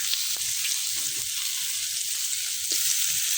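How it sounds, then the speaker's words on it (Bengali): Water taro and fish fry in a wok, giving a loud, continuous hiss of sizzling oil with a few faint knocks underneath. "একদম ভাজতেছি কড়াইতে কইরা"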